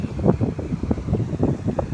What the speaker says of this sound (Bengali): খুব ঠান্ডা হাওয়া